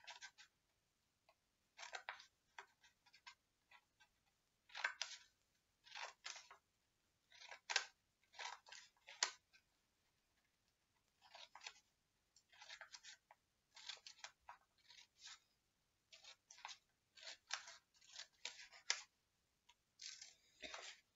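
Scissors snip paper around the edge of an origami Santa to shape its beard, a long series of faint, crisp, irregular cuts close by in a quiet room.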